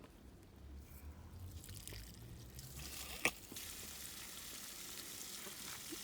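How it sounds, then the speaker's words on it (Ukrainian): Water runs through a Hunter HFR-075-25 pressure reducer with filter on a drip irrigation line, giving a faint, steady hiss with one brief click partway through. "Запускаємо подачу води."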